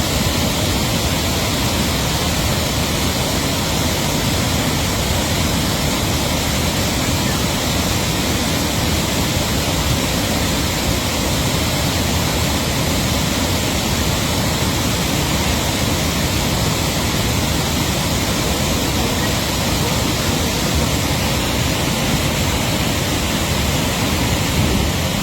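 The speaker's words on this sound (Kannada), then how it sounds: "ಕರಿಬಂಡೆಗಳು ನಡುವೆ ಹರಿಯುವ ನದಿ, ಎತ್ತರಕ್ಕಿಂತಲೂ ವಿಶಾಲತೆಗೆ ಹೆಸರಾದ ಜಲಪಾತ" The wide Godachinamalki waterfall on the Markandeya River pours between black rocks in a constant, loud, close roar of rushing water, with no voices.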